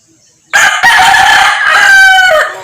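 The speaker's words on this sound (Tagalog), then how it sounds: "Manok na lay sulod oh." A rooster crows once, loud and close, a long drawn-out call on a rural farm with no talking over it.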